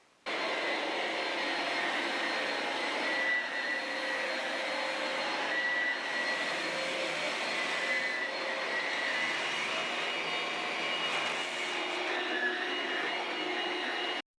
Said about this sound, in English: I actually have to vacuum right now, so I'll get to show you how this works.